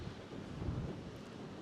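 Steady wind buffets the microphone on a harbour pier in Charlestown, Cornwall, a continuous low rumbling roar that stays fairly even throughout with no voices.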